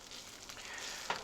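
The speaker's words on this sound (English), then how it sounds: "So you hear it sizzling just a little bit" Corned beef hash frying in a pan gives a soft, steady sizzle with a faint crackle. It is quiet and close, with one small clatter near the end and no talking.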